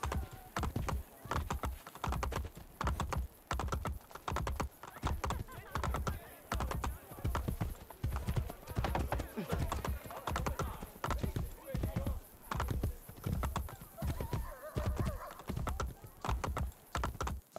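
Horse hooves clip-clop in a steady fast gallop through Assassin's Creed Brotherhood, a continuous rhythmic pounding close up with a possible faint whinny, while someone talks over it.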